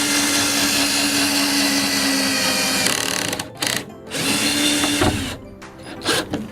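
A power drill drives a screw through wood into the wall of a Sprinter van being converted to a camper, a steady whirring run for about three seconds, then short stop-start bursts as the screw snugs up.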